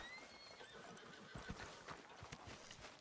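A horse neighs in Red Dead Redemption 2 while hooves clop steadily through the scene. The whinny is moderately loud, with no talking over it.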